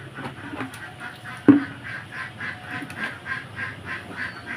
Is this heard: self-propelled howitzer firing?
no